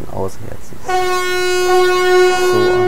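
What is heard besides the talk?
Typhon train horn of Ludmilla locomotive, video game Train Simulator 2019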